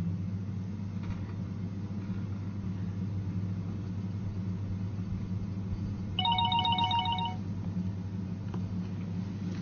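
A telephone ringing from an incoming caller, a short electronic ringtone of repeated beeps heard once for about a second over a steady low hum and background noise.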